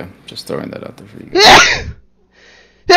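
A single loud, sharp sneeze bursts out close by in the middle of casual conversation, with people talking just before it and again right after.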